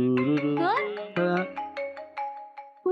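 A mobile phone ringtone plays a bright, stepped electronic melody of repeating tones for about three seconds, fairly loud and close, with no talk over it.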